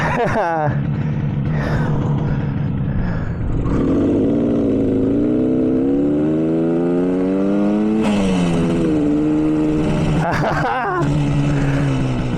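A 1967 Yamaha YR1 motorcycle engine runs loud and close while being ridden, its buzzing tone climbing as it revs through the gears, dipping at shifts and rising again, with wind rush throughout.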